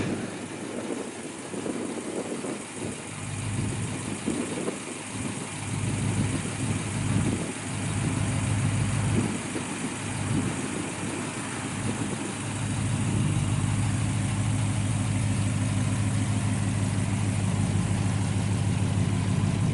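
A 1964 Ford Falcon Sprint V8 with 2.5-inch dual Magnum Flow mufflered exhaust idles with a deep, steady burble, a few light throttle blips early on, then settling into a fuller, even rumble, heard alone and close.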